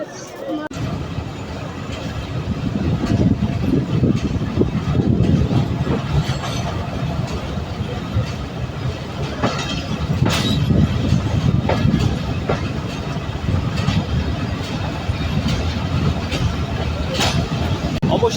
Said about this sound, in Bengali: অবশেষে 10 মিনিটের যাত্রা বিরতি দিয়ে আমাদের সিরাজগঞ্জ এক্সপ্রেস ট্রেনটি কিন্তু ঢাকার কমলাপুরের উদ্দেশ্যে ছুটে চলেছে।